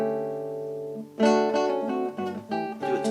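A classical guitar plays a passage from Isaac Albéniz's Sevilla, starting with soft sustained notes and then shifting to louder, bright rasgueado-like strummed chords in quick repeated bursts.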